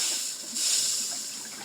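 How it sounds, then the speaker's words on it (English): The household water supply is turned back on after a thermal expansion tank install, sending a steady, fairly loud hiss of water rushing through the pipes that swells slightly midway and holds without a break. "All right, let's turn the water back on."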